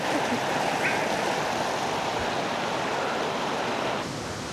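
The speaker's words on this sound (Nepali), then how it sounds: "यो हाम्रो लौके झरना" Laukea waterfall in Nuwakot near Kathmandu, a loud, continuous rushing roar of falling water, close and steady throughout, easing slightly toward the end.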